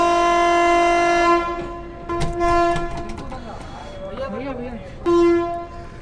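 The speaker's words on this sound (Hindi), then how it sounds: "बनारस रेलवे स्टेशन से हम निकल चुके हैं" Train pulling out of Banaras railway station in a new 2021-built coach, a loud sustained horn blaring at the start and again near the end, with rumbling carriage noise between.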